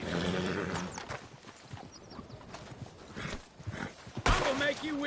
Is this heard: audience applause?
no